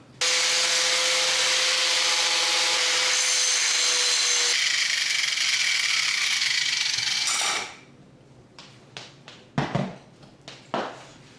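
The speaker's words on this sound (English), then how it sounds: "Let's use the freaking grinder," An angle grinder cuts into a Mongoose Blackcomb mountain bike frame with a loud, continuous harsh grinding roar for about seven seconds, then stops, followed by several sharp clanks and knocks.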